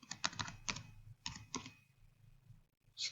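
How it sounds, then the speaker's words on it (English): Typing on a computer keyboard, heard up close as a quick burst of clicky keystrokes, a short pause, then a few more taps, with no talking over it. "I'm going to type in"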